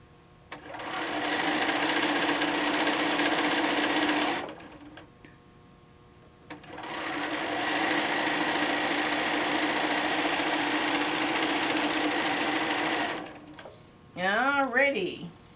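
A sewing machine stitches quilt strips in two long, steady runs, each several seconds long, with a short pause between them to realign the fabric. The motor hum is close and even. A brief voice is heard at the end.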